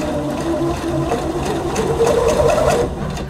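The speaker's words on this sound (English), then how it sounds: "And here we are just sewing further on that silk organza." A sewing machine stitches silk organza with a steady, continuous needle hum and fast mechanical rhythm, fairly loud and close, running alone for about three seconds.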